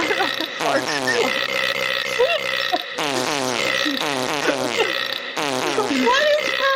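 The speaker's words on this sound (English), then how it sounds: "Why do there have to be like a fart sound drop?" A comedic fart sound effect plays as a repeating drop, with looping burp-like blasts in bursts of roughly two seconds over a steady backing track.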